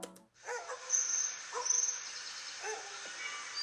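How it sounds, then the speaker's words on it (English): Several dogs bark in short, scattered bursts that sound somewhat distant, over a thin, high-pitched background hiss. "I want it to sound like these dogs are coming from the far left"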